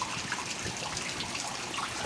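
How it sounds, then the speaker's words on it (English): Meltwater trickles steadily over the top of an ice dam outdoors in freezing conditions, a continuous soft wash of flowing water with a faint bubbling texture, heard alone at moderate distance. "So the water is flowing over the top of the current ice."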